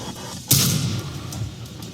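A single loud artillery boom comes from a Sexton self-propelled gun in a tank combat video game: a sharp blast with a rumbling tail that fades over the following second.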